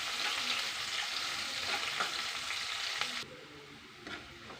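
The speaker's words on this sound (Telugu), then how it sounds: "సన్నగా తరిగిన ఉల్లిపాయ ముక్కలు వేసి కలర్ మారే వరకు ఫ్రై చేయాలి." Finely chopped onions fry with tempering spices in hot oil for tomato dal, making a loud, dense sizzle that drops suddenly to a quieter crackle near the end. A spatula stirs now and then, and no one speaks.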